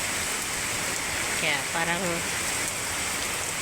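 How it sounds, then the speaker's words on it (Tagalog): Heavy rain falls steadily as Typhoon Uwan arrives, a constant dense hiss of water close by with a voice talking briefly over it. "Ngayon hangin at ulan pa lang siya."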